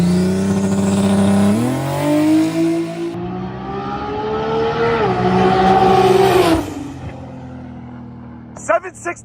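Full-interior BMW M4 making a drag racing pass at Maple Grove Raceway, its engine screaming loudly through rising revs and rapid upshifts before cutting off abruptly, followed by brief crowd or voice sounds at the end.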